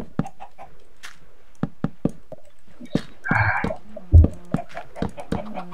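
Chickens cluck in the Minecraft video game among frequent sharp clicks and knocks from gameplay, with a short burst of squawking midway and a heavy thud shortly after.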